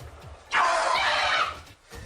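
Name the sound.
person screaming in fright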